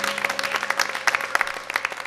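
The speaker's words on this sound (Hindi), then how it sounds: "नियाज़ साहब के लिए भी एक दफ़ा भरपूर तालियां होनी" An audience at a ghazal concert claps and applauds warmly, a dense patter of many hands continuing steadily throughout.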